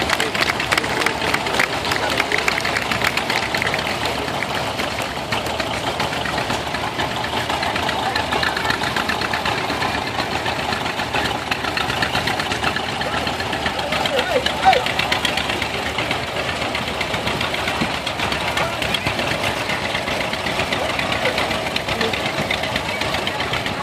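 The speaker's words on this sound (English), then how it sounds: "pulling up the last tractor of the Muller clan, the big McCormick Deering WR9" A big McCormick Deering WR9 tractor engine idles and rolls up during a tractor parade, a steady low knocking chug running the whole time under a crowd murmur and announcer talk.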